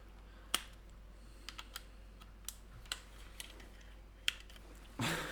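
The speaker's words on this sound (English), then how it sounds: "So yeah, I just pressed the arrow keys to walk." Arrow keys on a computer keyboard pressed in sparse, irregular single clicks over a quiet background, crisp and close, with a louder rustle at the very end.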